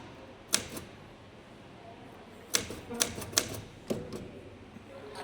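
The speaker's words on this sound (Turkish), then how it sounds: "Klavyede de hızlıyımdır." Fast typing on a computer keyboard, a handful of sharp, clicky key bursts spread unevenly across a few seconds, close by and moderately loud over a steady low room hum.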